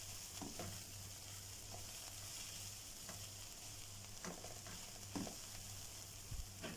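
Onion fries in a pan as a soft, continuous sizzle with occasional light stirring scrapes, fairly quiet and close with no talk.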